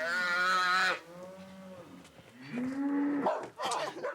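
Cattle on a reservation farm low loudly and close by, two long, drawn-out moos separated by a short pause, with no other sounds competing.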